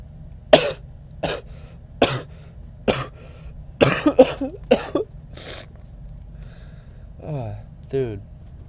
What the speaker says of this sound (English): so tired of coughing.